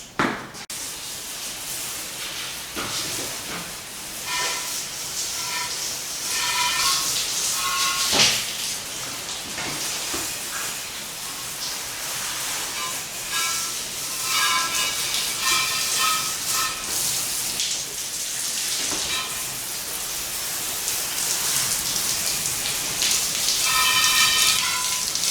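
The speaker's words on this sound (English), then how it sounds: "let's do a quick rinse off with a hose pipe" Hose pipe spraying water to rinse down a milking parlour, a steady broadband hiss of water hitting hard surfaces and splashing, loud and continuous throughout with slight surges as the spray moves.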